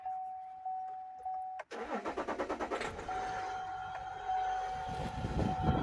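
A steady high whine, then a Duramax 3.0 diesel truck engine cranks with a quick rhythmic chugging before catching and settling into a loud, rough, continuous idle.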